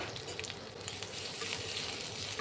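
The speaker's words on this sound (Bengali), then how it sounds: "1 চা চামচ আদা গ্রেট করা দিয়ে দিচ্ছি।" Grated ginger fries in hot oil for a saag kadhi. A soft, steady sizzle carries on without a break and stays fairly quiet throughout.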